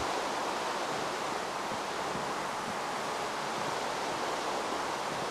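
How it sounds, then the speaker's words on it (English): Steady rain falls in the Minecraft video game, a dense, even hiss of broadband noise that stays constant and fairly loud for the whole stretch, with no voices over it. "This rain is really annoying."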